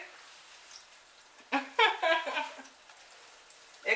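Chicken liver dropped into hot oil, a burst of bubbling sizzle and crackle that rises suddenly and then settles into a soft hiss.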